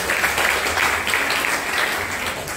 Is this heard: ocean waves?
no